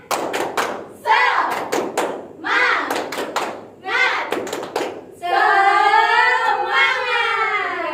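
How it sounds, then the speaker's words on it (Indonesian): A classroom of children performs a rhythmic spirit clap, sharp patterned bursts of claps alternating with chanted voices, ending in a sustained group chant with no claps. "1, 2, 3, tepuk semangat"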